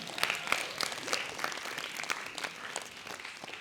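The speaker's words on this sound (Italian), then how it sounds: "Un applauso" Audience applause at a school screening and debate, a steady patter of many hands clapping at some distance, fairly faint and even throughout.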